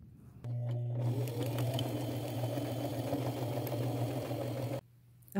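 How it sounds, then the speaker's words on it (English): A sewing machine runs a small straight stitch in red thread around a denim applique on an old jean jacket, a steady close mechanical hum with brief stop-start bursts at the beginning before a long continuous run that cuts off near the end. "with a fairly small straight stitch using red thread, I am going to go around all of the leaves and petals and things of the applique."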